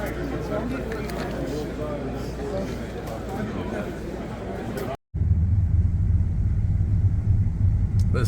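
A car rolls out of a packed parking lot after a sports card show in Wilmington, MA. A steady interior rumble of engine and road noise carries throughout, briefly dropping out and returning.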